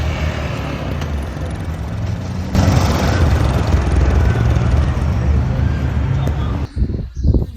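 A Yamaha Ténéré 660 motorcycle roars loudly close by, its engine noise surging louder midway as it rides off, then cutting out into short uneven bursts at the end.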